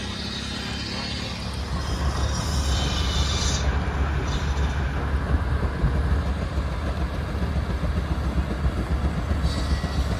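A steam engine at an outdoor tractor show churns out a heavy, continuous rumble with rapid rhythmic chuffing that grows louder after the first couple of seconds.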